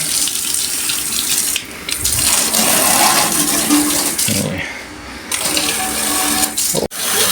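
A DIY spray gun blasts water onto a dirty outdoor air conditioner condenser coil, a steady loud hissing gush that runs nearly nonstop with one brief dip midway and a sharp break near the end.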